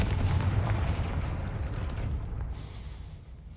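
Confringo fire spell cast in Hogwarts Legacy, a loud booming blast with a rumbling fiery roar that fades over a few seconds.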